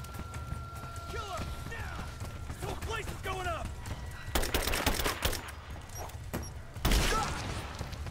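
Gunfire in Rise of the Tomb Raider, rapid close bursts of shots in two clusters partway through, mixed with shouting voices and other game noise.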